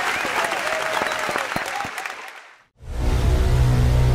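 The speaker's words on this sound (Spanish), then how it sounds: "Un aplauso, bien fuerte." Studio audience at a Colombian vallenato talk show applauds loudly for a couple of seconds, fading out abruptly before a jingle begins.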